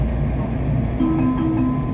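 A WMATA Orange Line Breda metro train rolls along with a steady low rumble and a faint tonal whine inside the car, continuous and fairly loud throughout.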